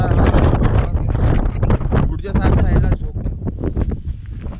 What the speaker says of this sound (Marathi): यावरूनच तुम्ही अंदाज लावू शकता की वारे किती प्रचंड वाहत होते